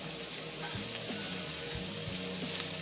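Flour cooks with vegetables in a pan for a seafood medley, making a steady, soft hiss of frying, close and even, with a few low stirring knocks and no speech.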